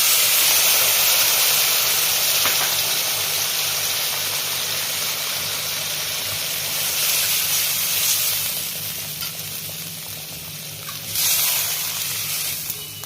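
Mustard-paste water poured into a hot pan of oil while cooking hilsa fish jhal sets off a loud, steady sizzling hiss that swells and eases over several seconds, with no voices.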